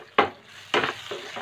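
Veg Manchuria balls fry in a pan with dark soy sauce and vinegar, with a few sharp bursts of sizzling and stirring spaced out over a short moment, fairly close.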